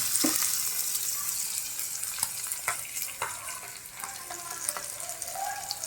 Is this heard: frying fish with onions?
yes